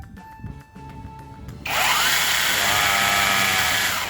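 A Livrea 12-inch cordless electric chainsaw motor spins up suddenly into a loud, steady high-pitched whine that runs continuously after a quieter stretch of handling noise.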